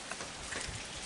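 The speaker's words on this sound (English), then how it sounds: "it's pouring down rain" Heavy rain pouring down outdoors on a cold night, a steady, fairly faint wash of drops without any voices.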